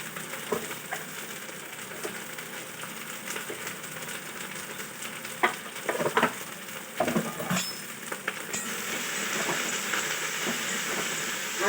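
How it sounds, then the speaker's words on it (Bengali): Bitter gourd and potato frying in a pan gives a steady broadband sizzle with scattered clinks and stirring scrapes, at moderate level throughout. "উচ্ছে আলু ভাজাটা বসিয়ে দিয়েছি।"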